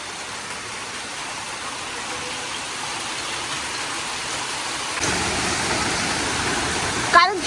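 Heavy hailstorm battering down outside, a dense, continuous roaring wash that grows louder partway through, with a sharp clatter near the end.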